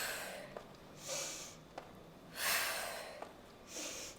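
Slow exercise breathing at a calm pace, three soft, airy breaths each lasting about half a second to a second, quiet and close, with brief clicks between them.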